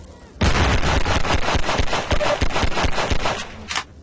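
Rapid, loud gunfire-like blasts and explosions rain down in a Half-Life 2 game, a dense fast string of sharp bangs starting abruptly and continuing nearly nonstop before a final isolated hit.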